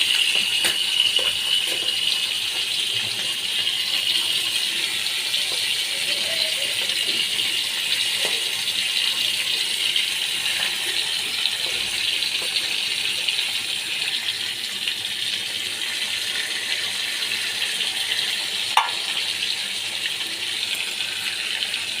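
Hilsa fish pieces frying in a hot pan, a steady broadband sizzle that holds at an even level throughout, with faint clinks and rattles now and then.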